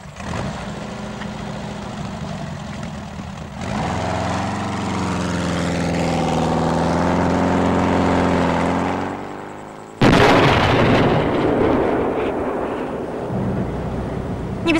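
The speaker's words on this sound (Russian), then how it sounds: "Не беспокойся, это из пушки палят." Cannon fire during a prison escape, heard as a loud, deep sustained rumble with ringing tonal overtones, then a second sharp, loud boom near the end.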